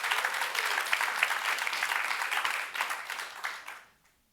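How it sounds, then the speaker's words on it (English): Big round of applause from a conference audience at a water-economics commission session, dense steady clapping for about four seconds before fading out quickly; no talk over it. "Can we get a big round of applause for him as well?"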